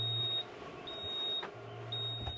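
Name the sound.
induction cooktop beeping in a van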